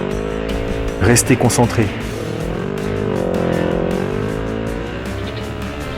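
A rally car drives and slides across a 4 km ice track in Sweden, its engine droning and shifting with a short burst of rough skidding, while someone speaks French over it.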